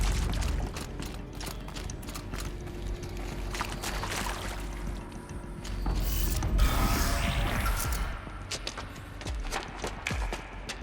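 A powered door mechanism opens in the video game Horizon Zero Dawn with a steady run of grinding, creaking and ratcheting mechanical clanks over a low rumble. The sound lasts about eleven seconds and swells in the middle.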